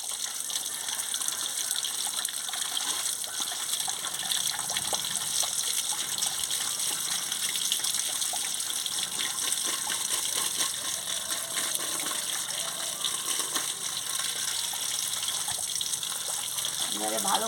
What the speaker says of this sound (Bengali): বেগুন আর ঝিমা একসঙ্গে ধুয়ে নিচ্ছি।